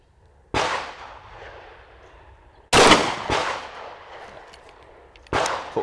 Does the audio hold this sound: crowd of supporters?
no